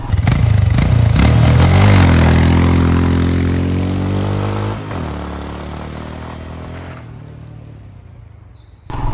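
Royal Enfield Himalayan motorcycle riding off-road on a narrow wooded trail, its single-cylinder engine loud and close, revving and pulling with rising pitch, then easing off and fading toward the end.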